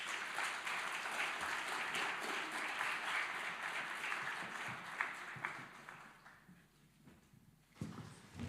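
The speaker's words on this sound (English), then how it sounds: "Can we all give a big round of applause for our speakers?" An audience at a King's College London conference on conflict, security and development applauds the speakers, a dense, steady clapping that fills most of the clip before thinning out, then swelling again briefly at the end.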